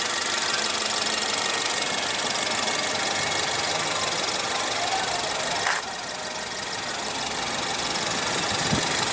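A 2015 Ford Fusion's 2.0-litre turbocharged four-cylinder engine runs at a steady idle, a constant close hum with faint ticking, dipping slightly in level midway before settling.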